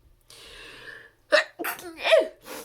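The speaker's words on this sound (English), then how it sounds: "Sorry, I think I'm going to sneeze." A quiet breathy intake builds for about a second, then a sharp, loud allergy sneeze bursts out close by, followed by a couple of shorter sniffs and gasps.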